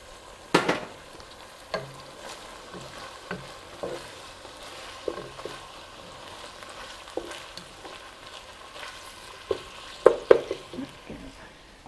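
Minced garlic fries in a hot pan with onions, giving a soft, steady sizzle punctuated by occasional clinks and scrapes of a utensil stirring, close and moderately quiet.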